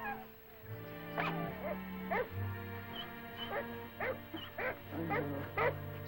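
Several sled dogs bark and yip in short, irregular bursts, fairly close, over a low steady hum.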